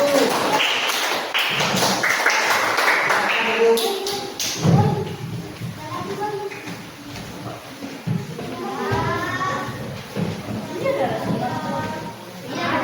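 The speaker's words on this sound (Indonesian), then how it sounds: "Tepuk tangan untuk kelompok 1." Students in a classroom clap for a student group during a science lesson on force, a dense run of overlapping taps and slaps that fades into chatter and a teacher talking, with children's voices over the last half.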